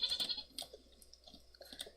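Several short, soft sheep bleats from Minecraft, scattered irregularly with faint clicks between them, quiet and alone.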